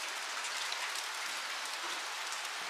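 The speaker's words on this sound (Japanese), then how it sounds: "今日はね、雨。 一日雨です。" Steady rain falls through a full day, giving a continuous, dense hiss of drops hitting surfaces that stays even and close throughout, with no voices.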